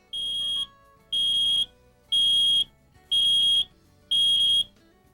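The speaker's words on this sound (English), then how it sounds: "When activated, the LP warning sounds like this." LP gas leak detector alarm in a 2000 Newmar motorhome, sounding five loud, evenly spaced high-pitched electronic beeps, each about half a second long, with no other sound around them.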